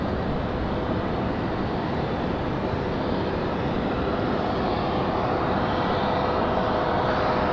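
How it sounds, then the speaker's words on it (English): An Airbus A321 jet for Iceland at the airport makes a loud, continuous broadband engine roar that holds steady throughout, with a faint tonal whine inside the rumble and no voices. "this is the first time we've seen an A321 for Iceland"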